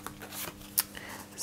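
A hand shuffles a deck of oracle cards, producing a few quick papery rustles and one sharp snapping flick in the middle, close and fairly quiet, with no voices.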